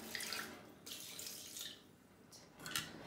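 Cold water poured into a blender jug for an avocado, pineapple and vanilla smoothie, a soft, steady splashing stream that swells near the end.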